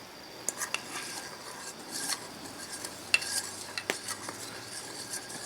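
Spoon stirring brown sugar into barbecue sauce for ribs, quiet scraping and occasional light clinks against the pot or bowl, irregular and close, with no talking.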